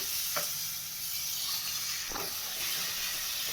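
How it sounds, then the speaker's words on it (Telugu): Tomatoes sizzle in a hot pan for a tomato fish curry, a steady loud hiss broken by two brief stirring scrapes, with no voices. "ఇప్పుడు మనము టమాటా వేసుకుందామండి ఇందులో"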